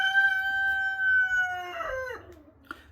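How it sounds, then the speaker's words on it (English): A single rooster crows just on the other side of a wall, one long sustained call that falls off at the end, followed by a brief faint click. "That's Stan, my rooster, and apparently he's right on the other side of the wall"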